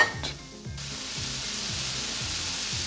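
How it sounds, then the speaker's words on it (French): Grated carrots and vegetables cooking over medium heat in a pan, a steady close sizzle with a brief clatter of stirring at the start. "carottes râpées, et toujours à feu moyen, vous allez cuire pour un autre 3 à 5 minutes."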